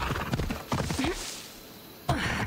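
Horse galloping in the Assassin's Creed Odyssey video game, rapid rhythmic hoofbeats up close with a brief whinny, then a sharp fresh burst of hooves near the end.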